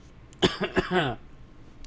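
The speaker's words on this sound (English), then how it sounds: "Trying to get over this friggin' cough." A sick man's deep, harsh cough bursts out three or four times in quick succession, close and loud, then fades into quiet room noise.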